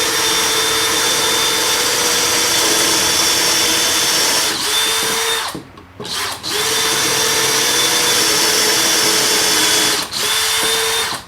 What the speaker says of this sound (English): we're going to drill 2 holes on each end so we can join them to our legs